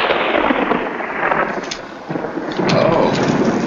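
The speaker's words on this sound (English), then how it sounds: "looks like a storm's coming up" Thunder from an approaching storm in a 1944 film drama, a loud broad rumble that swells, eases off, then rolls in again, with no talk over it.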